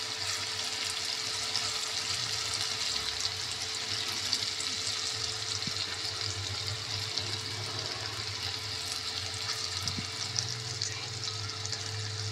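Lentil vada batter fries in hot oil in a wok, a steady close crackling sizzle with scattered pops, running continuously throughout without any talking.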